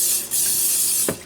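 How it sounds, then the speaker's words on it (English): A short hissing burst of cooking spray from an aerosol can into a casserole dish, ending with a faint clunk. "I'm gonna spray our casserole dish."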